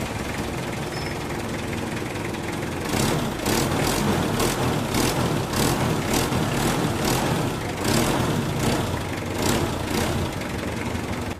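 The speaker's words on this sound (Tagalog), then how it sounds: "magaspang pa itong under ng makina niya na yung idle niya hindi siya stable" A Mitsubishi Adventure engine idles roughly and unevenly with heavy vibration, a loud close-up diesel-like clatter with recurring surges and knocking pulses over a steady low rumble.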